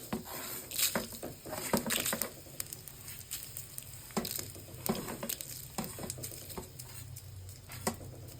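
Whole cinnamon, cardamom and cloves fry in oil in a pan for a chicken dish, giving a soft steady sizzle broken by frequent small pops and crackles, close and fairly quiet.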